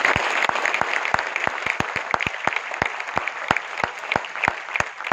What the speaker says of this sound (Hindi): मैं चाहूंगा एक बार उनके लिए तालियां बजाएं।